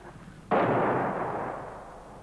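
A single artillery gun fires in a 1957 war film: one sudden loud boom that rolls and decays into a fading rumble over about two seconds.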